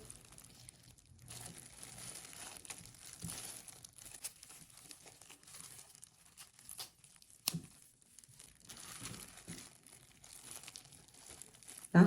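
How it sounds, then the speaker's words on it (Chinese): Cooked chicken leg meat being torn apart by hand after the skin is peeled off, giving soft, close, intermittent tearing and crinkling sounds over about twelve seconds, with a sharp crackle near the middle. "把这个鸡腿的外皮先给它剥掉，把鸡肉用手给它撕掉。"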